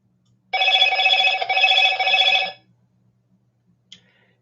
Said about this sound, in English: This phone is loud.